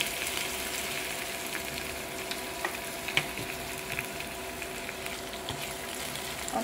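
Garlic tempering sizzles in hot oil, a steady close frying hiss with a few small pops and crackles and no talking.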